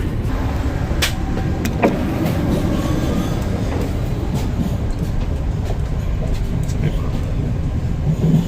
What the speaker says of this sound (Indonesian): Perjalanan kereta api Taksaka sampai di stasiun besar Purwokerto lebih awal 2 menit